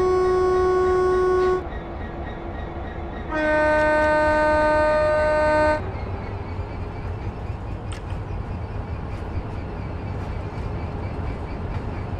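Diesel-electric train in Train Sim World sounds two loud, sustained horn blasts, then rolls off with a low, steady rumble after the brake is released.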